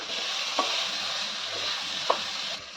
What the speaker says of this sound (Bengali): আলুটা গাজরটা কষানো হচ্ছে মশলার সঙ্গে